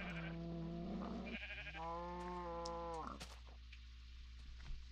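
A sheep in a video game bleats in a few drawn-out, wavering calls, close and clear against a low steady hum.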